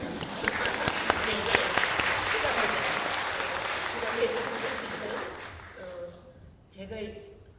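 Audience applause at a Korean landscape architecture academic event, dense steady clapping filling most of the clip before fading out, with a voice speaking near the end.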